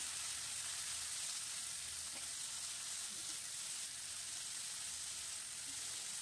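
Finely chopped medium onions sizzle steadily in a pan for dhaba-style palak paneer, a continuous broadband frying hiss with no voices.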